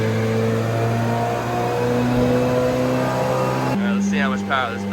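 A 2023 Corvette C8 Z06 runs a third gear pull on a dyno, its engine holding a loud, steady high-revving roar with strong tonal harmonics that abruptly shifts character near the end as a voice speaks over it.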